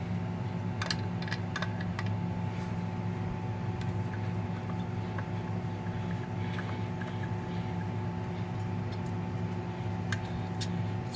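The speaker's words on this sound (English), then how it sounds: "So I'm going to take out those four screws right now." Small screws being unscrewed from a projector, heard as a steady run of faint, sharp clicks and ticks over a constant mechanical hum.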